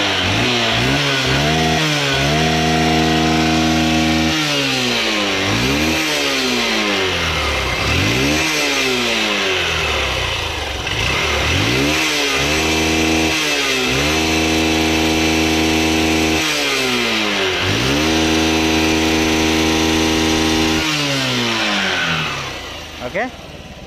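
A 100cc or 125cc motorcycle engine runs loud and close, revving repeatedly in rising and falling sweeps between steady idling stretches, with talk partly audible around it.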